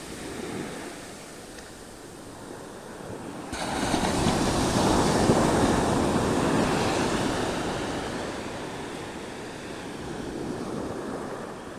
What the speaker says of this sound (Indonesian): Oh, ombaknya tuh.